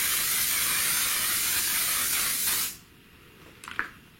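A One Size makeup setting spray gives a long, loud continuous hiss that stops abruptly after about two and a half seconds, followed by faint rustling and a couple of small clicks.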